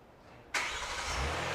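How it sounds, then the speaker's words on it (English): A Hyundai Palisade engine catches abruptly after a quiet moment, fired by a remote starter key fob, then settles into a steady, close idle. "And here you go, the car started."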